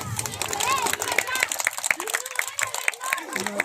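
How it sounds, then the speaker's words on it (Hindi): An audience at a Christmas celebration claps to welcome a preacher to the stage, a dense patter of hands mixed with chatter and shouts from nearby people. "तो परमेश्वर का दास का तालियों के साथ स्वागत करेंगे।"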